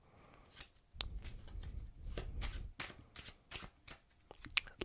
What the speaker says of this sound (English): give it a good shuffle to completely lose it